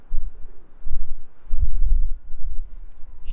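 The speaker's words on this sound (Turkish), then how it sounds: "Şimdi bu kuşlar biraz gezinsinler burada." Pigeons in a rooftop coop coo softly amid low, muffled rumbling and shuffling; the calls are close but subdued, and no one speaks.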